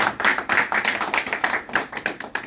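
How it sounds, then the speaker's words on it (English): Audience applause at a first-year panel event, dense steady clapping from a crowd lasting throughout, fairly close and even in loudness with no voices over it. "Round of applause for"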